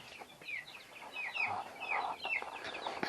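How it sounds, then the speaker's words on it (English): Meat-bird chickens cluck inside their coop on a homestead, a steady run of short, faint calls and chatter from several birds that rises and falls without break. "let's go in and check the chickens."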